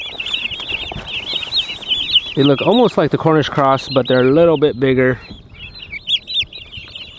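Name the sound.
live turkey poults chirping in a shipping box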